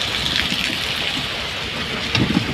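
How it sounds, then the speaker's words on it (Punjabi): Heavy rain in Muktsar Sahib, Punjab, flooding the roads, pouring down in a loud, dense, continuous hiss, with drops drumming on a nearby surface and no voices. "ਮੀਂਹ ਬਹੁਤ ਜ਼ਿਆਦੇ ਆ"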